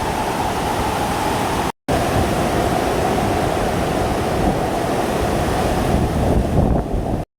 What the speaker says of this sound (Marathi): खूपच पाऊस आहे आणि वारा पण आहे